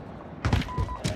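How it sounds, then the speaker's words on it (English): Weapon reload in Call of Duty Modern Warfare multiplayer, a few quick mechanical clunks and clicks close up, three distinct thuds in about a second. "Reloading."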